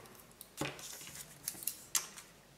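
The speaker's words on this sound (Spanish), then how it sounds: "Cogemos las tijeras" Paper scissors make a few short, crisp snips through a paper template, close and alone, with one louder cut near the start and several lighter clips after.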